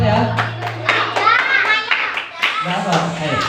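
Children chant a rhythmic clapping song for the fast, the sharp hand claps falling in time with bright young voices in a close, lively classroom.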